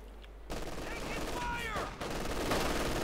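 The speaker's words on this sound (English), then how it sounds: "We go to light machine guns." Light machine guns fire in the Company of Heroes 2 strategy game, with sustained rapid bursts of automatic gunfire and a few ricochet-like whines over a battle backdrop, moderately loud and continuous.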